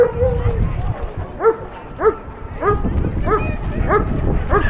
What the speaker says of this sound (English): Big Alsatian to my left barking, wondering what's going on.